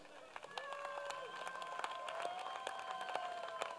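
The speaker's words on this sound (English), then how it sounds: "let's have a big round of applause for them" Audience applause for singing-contest finalists at the Voice of Goa final, moderate clapping with a few cheers and sustained musical tones underneath, fairly faint overall.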